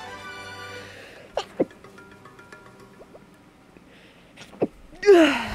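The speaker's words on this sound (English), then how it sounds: "Sorry, sneezes." A person sneezes close to the mic near the end, a sharp burst over soft video game music and effects from Paper Mario: The Thousand-Year Door.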